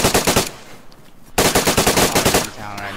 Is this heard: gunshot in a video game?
yes